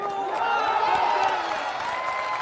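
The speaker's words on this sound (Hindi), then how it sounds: "अभी ताली नहीं बजाना है।" A large crowd at a political rally in Bihar applauds steadily, a dense continuous wash of clapping with some cheering, heard from within the crowd.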